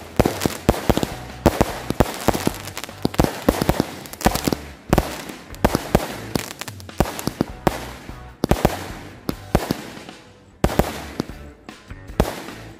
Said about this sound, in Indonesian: Itu dia hasilnya guys dari mercon Roman candle gladiator.